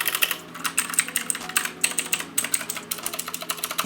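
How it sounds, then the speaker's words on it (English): Fast, crisp clicks from a Redragon K552 mechanical keyboard with Outemu Blue switches, close up, with rapid irregular keystrokes in short bursts and no voices. "Super nice keyboard. Blue switch. Oh my gosh, that sounds so nice."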